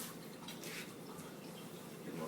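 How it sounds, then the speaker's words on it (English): Hands are rinsed under a running kitchen tap while cooking, giving a steady close splashing rush of water that lasts about two seconds with no talking. "Rinse off my hands."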